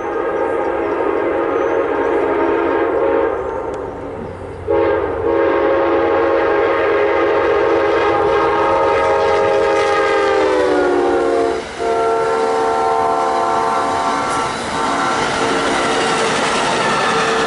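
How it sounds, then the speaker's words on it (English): A train rumbles steadily past while its horn blares in long, loud sustained blasts with a short break between them. "here comes another train"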